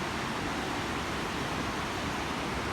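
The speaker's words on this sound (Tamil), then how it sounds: "பயங்கர ஃபோர்ஸாக தண்ணி போயிட்டுருக்கு." A river in Ladakh rushing forcefully past a crossing point, a dense, even roar of churning water with no breaks.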